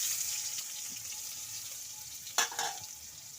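Chopped onions fry in mustard oil in a wok with a soft, steady sizzle, broken by a couple of sharp scraping stirs of a spatula partway through, quiet and close.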